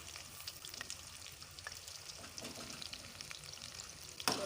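Chicken pakora fries in hot oil while the pieces are turned, giving a soft, steady sizzle with light crackles and a sharp clink near the end.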